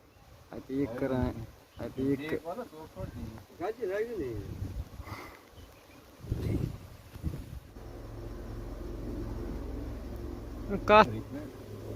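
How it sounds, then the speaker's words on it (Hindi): Someone talks at first, then Asian honey bees (Apis cerana) buzz in a low, steady drone while being moved into a traditional box hive, with a faint higher buzz passing near the end. "मैं यहाँ झाड़ दूंगा तो शोर सुन के जो है अंदर वाली मधुमक्खी भी इस कैप के अंदर आ जाएगी"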